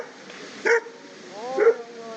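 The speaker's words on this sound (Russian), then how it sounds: "Ой, тут собачьи бои." Dogs barking in a street in Tbilisi, two short loud barks with a yelping tone about a second apart over low background noise.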